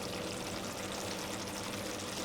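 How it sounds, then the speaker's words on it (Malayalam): Loose, watery ground coconut paste pours into a simmering tamarind-soured onion curry for a Kerala sadya, giving a steady, close, hissing splash with no voices. "ഇനി നമുക്കിതിലേക്ക് അരച്ചു വെച്ചിരിക്കുന്ന അരപ്പ് ചേർക്കാം"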